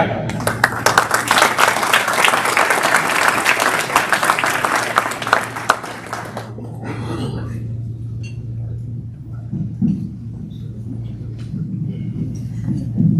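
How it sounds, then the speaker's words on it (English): An audience at a luncheon gives a round of applause for Jack Potter, dense hand clapping that runs steadily for about six seconds and then cuts off to quieter room noise. "Again, let's have a round of applause for Jack Potter."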